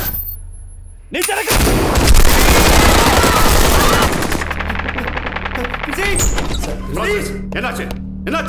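Heavy automatic gunfire bursts out loud and dense after a brief lull in a Tamil action film scene, rattling for about three seconds, then sharp scattered shots and thuds continue under the hum of the scene.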